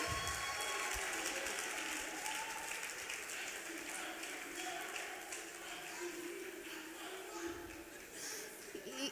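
A church congregation claps steadily, the applause fairly loud and continuous, with some voices mixed in underneath.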